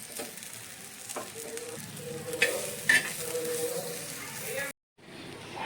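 Goat brain pieces frying in a pan, a steady low sizzle with occasional stirring clicks and scrapes, moderately close, broken by a brief silence near the end.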